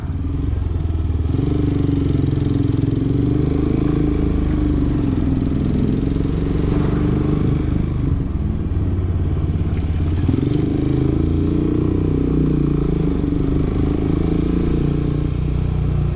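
A second-hand motorcycle engine runs steadily close by for the whole stretch, a low, even rumble with occasional clattering and thumping and no one speaking.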